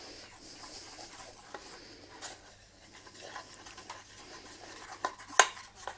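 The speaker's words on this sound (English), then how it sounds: "I'm going to stir this around." A spoon stirs a chocolate cake mixture in a bowl, soft scraping and light clinks close by, ending with a couple of sharper knocks against the bowl.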